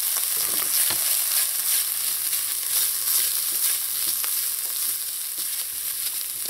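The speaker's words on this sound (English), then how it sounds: "Next, I'm going to go in with some finely chopped cabbage." Finely chopped cabbage fries in a pan with a steady, close hiss and crackle, stirred now and then, for a saltfish wonton filling.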